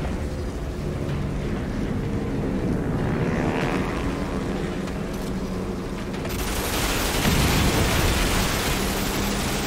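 An airplane in the Assassin's Creed Unity video game roars past as a steady, loud engine drone with a swelling surge midway, mixed with dense rumbling game noise.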